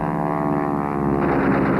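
Propeller warplanes, British Mosquito and Spitfire, drone overhead in a steady, loud engine roar with layered harmonic hum that swells slightly toward the end, no voices.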